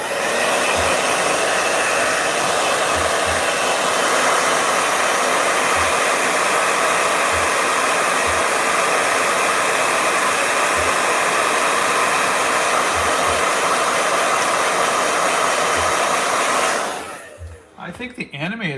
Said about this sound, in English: We're gonna have a lot of blow dryer if I can speed this up.